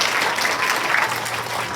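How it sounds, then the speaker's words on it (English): An audience claps for first-grade students after their school musical performance, a steady wash of many hands applauding together at moderate volume. "One last clap for our performers here."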